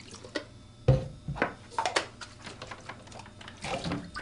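A Manta2 multiprobe water sonde is rinsed with pH 10 buffer solution, giving a handful of close, short splashes and drips with quiet gaps between them and no voices.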